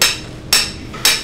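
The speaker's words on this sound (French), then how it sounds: "Allez, on va planter un clou." Three sharp, loud hammer blows on a nail land about half a second apart, each ringing briefly before fading, with no voices.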